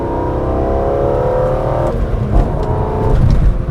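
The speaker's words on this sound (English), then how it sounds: "That naturally aspirated inline 6. Those revs." A BMW E46 M3's naturally aspirated inline-six climbs in a loud, rising wail from close inside the car, then drops sharply as the revs break off and build again into a deep growl.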